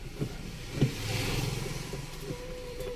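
A car engine revs up after a clutch plate repair, rising from a low idle into a moderate, close-up acceleration with a couple of brief knocks at the start.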